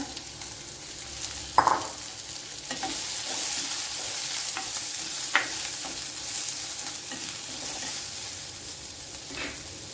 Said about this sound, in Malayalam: ഒരു മുളകും മല്ലിയും മൂത്ത് വന്നിട്ടുണ്ട്